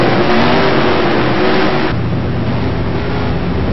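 Race cars roaring at a green-flag restart at Martinsville, a loud, dense engine blare that dips and shifts partway through as the pack accelerates, continuous with no break.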